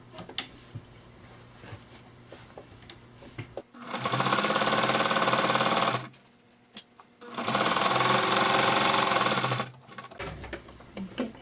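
A sewing machine runs in two steady bursts of about two seconds each, stitching fabric for a pencil case, with a short quiet pause between them while the work is turned.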